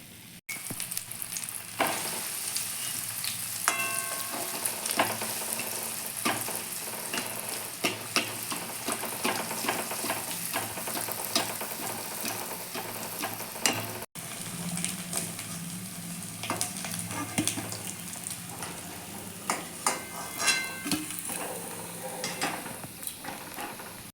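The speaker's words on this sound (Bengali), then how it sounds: "বাকি চপগুলো আমি এক এক করে ভেজে নেবো" Egg chops fry in hot oil with a steady, close sizzle that runs throughout, broken by occasional stirring clinks and scrapes. No voices are heard.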